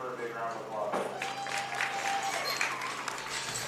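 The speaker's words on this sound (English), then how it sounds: "Let's give her a big round of applause." Applause for a young exhibitor with a Hampshire breeding sheep at a 4-H goat and sheep show, a steady wash of clapping from a crowd with talk mixed in across it.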